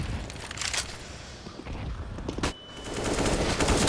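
Gunfire during a professional Counter-Strike match, a flurry of rapid shots and bursts fairly loud and close, with game ambience continuing after a brief dip.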